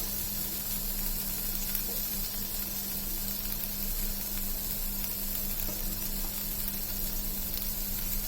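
Tomatoes and ground spices, coriander and red chili powder, saute in hot oil for an ennai kathirikai brinjal curry, giving a steady, close sizzle and frying hiss that holds evenly throughout with no talking.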